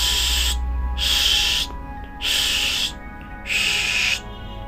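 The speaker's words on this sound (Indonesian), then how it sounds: "Kali ini Mila menyemprotkan 4 kali semprotan" A spray bottle gives four quick hissing bursts in a steady rhythm, each about half a second to a second long with brief silences between, loud and close.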